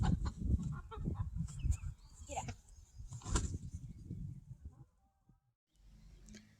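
Chickens cluck and squawk close by in busy bursts, then go quiet briefly before a soft rustle returns.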